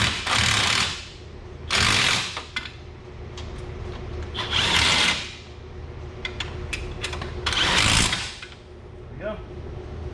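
Impact wrench tightening the mounting bolts on a newly installed winch, firing in four loud, broadband bursts of roughly a second each at a steady rhythm, with quieter work noise and voices between the bursts.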